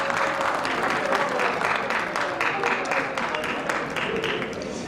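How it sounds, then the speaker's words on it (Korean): A hall full of people at a church association's general assembly breaks into loud, sustained applause for the newly installed representative chairman, dense clapping filling the whole stretch. "박수해 주시면 좋겠습니다"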